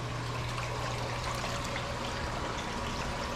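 Water in a reef aquarium holding a Montipora coral frag trickles and gurgles steadily, with a low, even hum running beneath and no talking.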